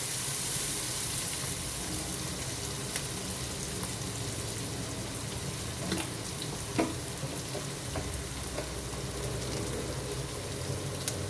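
Quiet, steady sizzle of onions and green chilies frying in a pan with cinnamon, cardamom and bay leaf, with a few soft stirring clicks and no talking.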